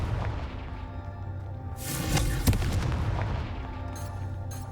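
Confringo spell explosions go off in the Hogwarts Legacy video game, with heavy booming blasts and a sharp crack partway through over a rumbling background, loud and close, with no talk.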